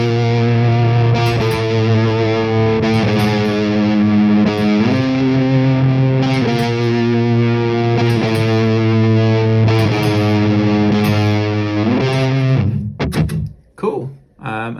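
A heavily fuzzed guitar runs through a fuzz distortion effect on a Quad Cortex processor, playing sustained, buzzy chords that shift pitch every couple of seconds before choppy, cut-off strums end the passage; loud and saturated, with no talking.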